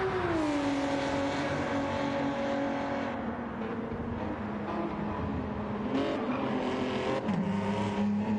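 A race car in Gran Turismo powers through the fast 130R corner, its engine a loud, continuous, close-up whine with shifting pitch and a brief gear change near the end.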